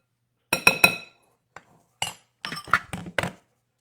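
A utensil strikes and clinks against a bowl while mixing salmon patty mixture, a handful of sharp, close knocks in short irregular bursts separated by silence.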